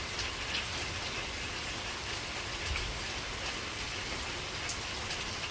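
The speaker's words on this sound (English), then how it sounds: "I wanted to come out here and just listen to the rain" Rain falling outdoors beside a hot tub, a soft, steady patter of drops on surfaces continuing evenly throughout, fairly faint and calm, with nobody speaking.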